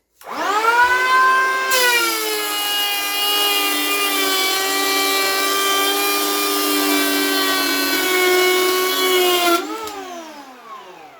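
A Dedra DED7066 cordless electric planer runs up and planes wood at a deeper cut setting, a loud, steady high-pitched whine held for about eight seconds before spinning down.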